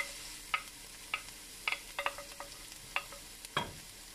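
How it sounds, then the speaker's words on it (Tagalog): Garlic sautéing in a pan, a soft, quiet sizzle broken by sharp, scattered stirring scrapes and taps of the spatula, close by with no talking. "Igigis ako na yung bawang"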